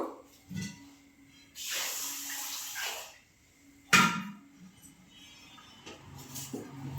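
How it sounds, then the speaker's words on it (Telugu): Water pours into a bowl of washed rice set aside for soaking, a nearby gushing splash lasting about two seconds, then a sharp knock and quieter trickles and clatter. "ఇప్పుడు దీంట్లో వాటర్ పోసుకొని ఒక పక్కన పెట్టుకుందాము"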